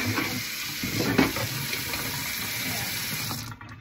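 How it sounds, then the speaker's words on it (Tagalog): Steady rush of running tap water as utensils are rinsed in a sink during kitchen prep for deboning milkfish, continuous and close, cutting off near the end. "Hugas tayo ng utensils."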